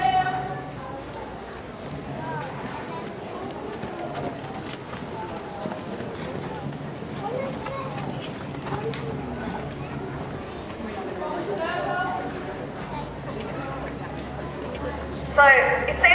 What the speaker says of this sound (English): So the horses we've got here today, the first 4 of them from the front are thoroughbreds, and the last 2 are Percheron crosses.